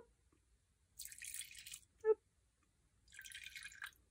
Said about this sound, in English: Now comes the soap bubbles. And we're going to just pour some of this in.